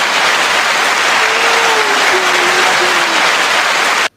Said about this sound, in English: Round of applause, mate.